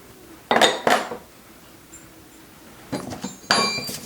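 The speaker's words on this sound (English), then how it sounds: "I'll just mix these dry ingredients together." A utensil clinks against a bowl while dry ingredients, fresh-milled flour, cinnamon, baking soda and salt, are mixed for graham crackers: two quick pairs of bright scraping knocks with a quiet gap between them, close up.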